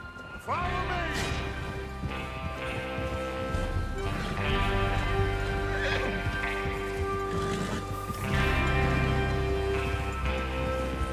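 Horses whinny and neigh over steady clip-clopping hooves in the video game Red Dead Redemption 2, with a loud busy rumble of movement and occasional crashes throughout.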